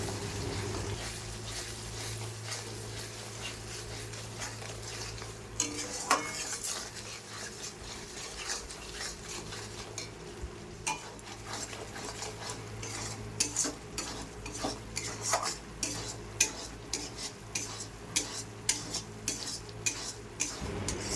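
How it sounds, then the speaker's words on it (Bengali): Spice paste with salt and turmeric being stirred and fried for a Bengali chicken and potato curry, with steady clinks and scrapes of a utensil against the pan over a soft sizzle throughout. "পরিমাণ মতো লবণ আর হলুদ দিয়ে মশলাটা ভালো করে কষিয়ে নেব।"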